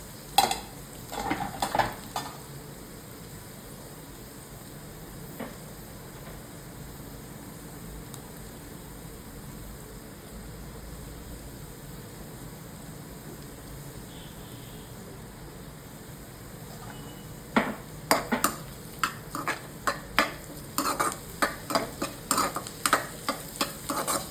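A spoon scrapes and stirs browned onion with crushed ginger-garlic paste in a frying pan for a moth bean curry. Quiet sizzling runs throughout, with clusters of close scraping taps at the start and again near the end.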